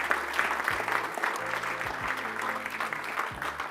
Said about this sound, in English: Can we give a round of applause for all the video guys at the back, by the way?